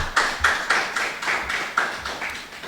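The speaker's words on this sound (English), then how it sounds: "may we give her a round of applause, please" Audience at a public debate applauds a panelist invited to the high table: a small group claps in a steady, rhythmic beat, close and moderately loud.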